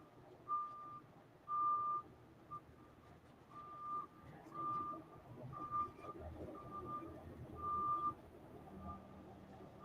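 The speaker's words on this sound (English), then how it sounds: "I wish that truck would stop beeping." Intermittent high electronic beeps from a reversing truck repeat at steady intervals through a rumbling background of traffic and crowd noise at a hockey scrimmage.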